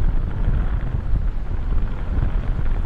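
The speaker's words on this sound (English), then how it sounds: "It ain't half windy." Strong wind buffets the microphone in a continuous low roar with gusty surges on a harbour jetty in Scotland, no other sounds standing out.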